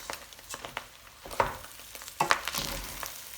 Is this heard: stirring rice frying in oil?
yes